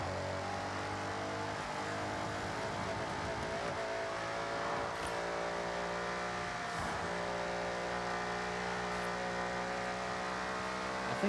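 Audi engine in a racing video game, a continuous loud drone with shifting revs and steady tonal harmonics, no voices.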